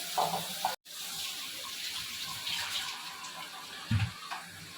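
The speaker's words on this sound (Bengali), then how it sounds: "এবার একটুখানি জল দিয়ে দেবো, সামান্য অল্প একটুখানি।" A small splash of water poured into aam chutney in a kitchen, a steady soft gush with a brief break and a couple of clinks, close and without talk.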